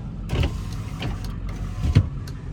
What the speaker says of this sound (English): Windows work.